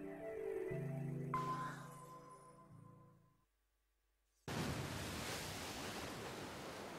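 Rushing flood water from the 999 video game: synthetic game tones fade into near silence, then a sudden loud roaring wash of water bursts in and keeps surging to the end.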